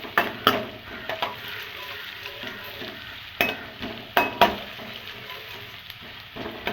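Onions sizzle steadily in a hot pan for a restaurant-style chilli chicken, with a spoon stirring through them and several sharp scrapes and clacks against the metal standing out over the continuous frying hiss.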